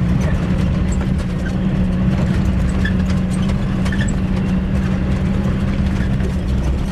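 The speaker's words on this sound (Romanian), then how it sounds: "Urmează aici cum moare motorul imediat." A car engine idling, a loud, close, continuous low hum with a faint mechanical rattle that holds steady throughout without cutting out.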